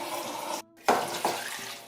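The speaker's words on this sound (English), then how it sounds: "So I pour out the water." About two liters of water poured out in a home kitchen while making Japanese curry, a running splashing stream broken by a brief pause, then resuming with a couple of sharper splashes.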